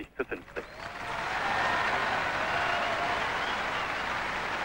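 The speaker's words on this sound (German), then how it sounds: "Herzlicher Beifall für die beiden Finalisten." Crowd applause for tennis finalists Becker and Curren at a match, swelling after a few sharp opening claps into a steady, dense, sustained roar of clapping from a large audience.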